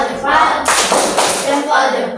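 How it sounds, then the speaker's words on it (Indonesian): A school class in an Islamic studies lesson gives a short burst of thumb clapping, a dense patter of many hands close by lasting about a second, with a softer smattering of claps and voices around it. "Kasih tepuk jempolnya untuk kelompok 2."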